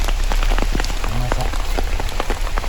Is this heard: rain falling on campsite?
yes